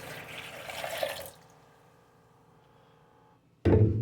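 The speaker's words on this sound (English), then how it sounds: "Just a warm water. 1 cup. 1 cup. Pour that down in our" One cup of warm water is poured into a bread machine pan, a steady splashing stream that stops abruptly and leaves near silence before a loud bump at the end.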